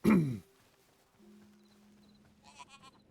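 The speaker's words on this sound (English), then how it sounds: "Oh, sheep." In the video game Hytale, a sheep gives one short, loud bleat at the start, followed by quiet ambient tones and a few faint, soft game sounds.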